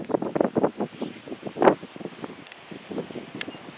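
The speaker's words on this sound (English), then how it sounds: "this wind's something else today" Strong wind gusts buffet the microphone outdoors on a ranch where dirt is being backfilled around a well, a rough, rumbling rush that pulses in uneven bursts, loudest near the middle.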